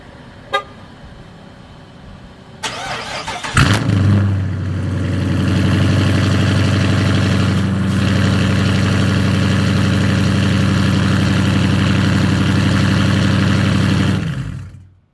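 A 2017 Dodge Charger R/T with a 5.7-liter V8 and full 3.5-inch straight-pipe exhaust barks to life on a cold start after a couple of short clicks, then settles into a loud, steady, raspy high idle until it cuts off.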